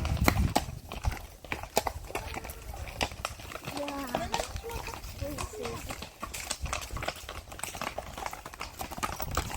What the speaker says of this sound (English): we've just come across this lot on horses